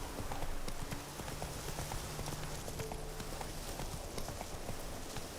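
Roach the horse gallops in The Witcher, rapid hoofbeats pounding continuously under a dense wash of wind and ambient game noise, close and loud throughout.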